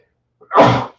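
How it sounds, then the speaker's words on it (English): One loud, close sneeze from a person, a brief intake followed by a sharp broadband burst that fades within half a second, alone without talk. "just sneezed."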